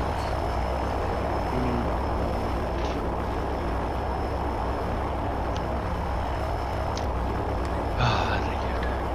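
An airplane engine drones in the video game Left 4 Dead 2, a steady continuous low roar with a few faint clicks and a brief louder knock near the end, no talk over it.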